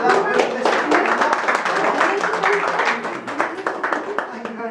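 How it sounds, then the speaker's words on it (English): An audience at a literary festival talk claps in a steady round of applause, dense overlapping hand claps filling the room at full volume throughout, with voices mixed in underneath. "Big round of applause for Carol."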